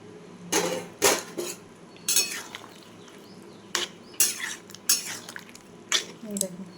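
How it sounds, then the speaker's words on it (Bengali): Chopped ridge gourd goes into a pot of nearly cooked red lentil dal with a series of close, sharp clinks and scrapes of a metal spoon against the pot, spaced irregularly. "দেখুন ডালের সাথে আমি কেটে রাখা ঝিঙেগুলো দিয়ে দিলাম।"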